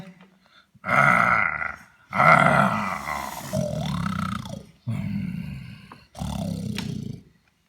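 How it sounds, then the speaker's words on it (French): Lions, leopards and panthers roar in a French cartoon, with about five loud, close, drawn-out roaring bursts separated by short pauses. "J'entends ces affreux rugissements de lions et de léopards et de panthères."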